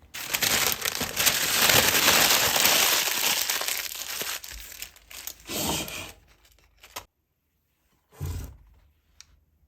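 Parchment paper is torn and crinkled by hand while a cake tin about 20 cm across is lined, giving a long, close rustling and crackling that fades, then two short crinkles after a pause.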